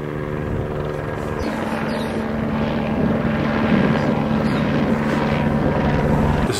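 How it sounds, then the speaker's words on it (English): A police helicopter flying overhead, its rotor droning loud and steady with a continuous low thrumming throughout. "It's a helicopter."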